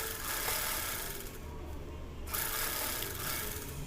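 A sewing machine stitching the fabric of a frock gives a fast, steady whirring rattle that stops briefly in the middle and then resumes, fairly quiet and close, with no talk.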